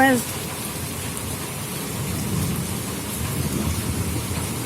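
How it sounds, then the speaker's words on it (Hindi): Heavy night rain pours down steadily over a village home, a dense, loud, even hiss with a brief voice at the very start and low rumbling beneath. "हाँ तो तेज है बरसात।"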